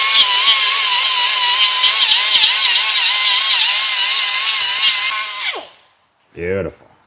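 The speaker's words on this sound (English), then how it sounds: "And then hit her with the right angle die grinder with a 2-inch cookie." A right angle die grinder fitted with a 2-inch cookie disc cleans rust off a Dodge Ram front axle seal area, a loud steady high whine for about five seconds, then spinning down, followed by a brief voice.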